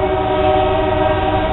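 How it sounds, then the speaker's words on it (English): Northbound coal train passing with a loud, sustained horn blast over the rumble of rail cars, close and continuous with no talking. "There goes the northbound coal train, I bet."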